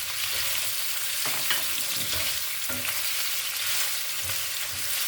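Pork spare ribs for Adobong Sitaw hit a hot pan and sizzle steadily, with a constant hiss of frying fat and a few soft stirring knocks and scrapes near the pan.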